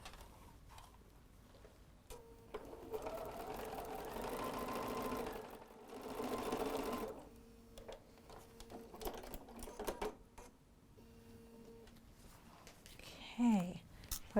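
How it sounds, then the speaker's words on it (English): A sewing machine stitching a cotton fabric face mask, running in several bursts of fast mechanical ticking with pauses between, at close range; a person speaks briefly between runs. "So let's go ahead and sew that."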